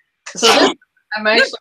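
Two loud, close sneezes from a person, one right after the other with a short pause between, and speech follows.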